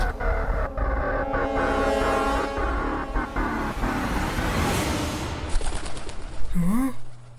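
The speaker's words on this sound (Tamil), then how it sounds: "இது புறா சத்தமாச்சே." A pigeon coos in an animated cartoon scene. The cooing comes in short tonal bursts near the end, over a busy background of music and traffic-like noise.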